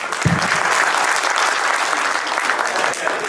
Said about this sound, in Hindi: इनके लिए हमने तालियां जरूर बजानी चाहिए सर